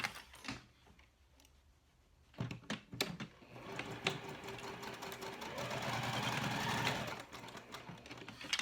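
A home sewing machine stitches cork fabric for a convertible clutch, a quiet rapid mechanical whirring in short bursts with pauses and clicks between them, then a longer steady run near the end.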